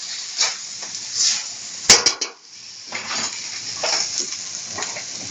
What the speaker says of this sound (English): So now we're just mixing it with the sauces.